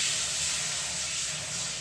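Water runs in a steady, even hiss while a pan that held ghee is rinsed after making Satyanarayana halwa, with no talk.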